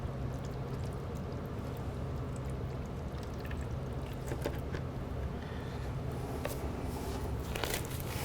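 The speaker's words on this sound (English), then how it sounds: "Add about 8 ounces of apple juice and about 1 ounce of cider vinegar." Apple juice and cider vinegar pour over barbecue ribs in a continuous, wet, splashing stream, close and steady throughout.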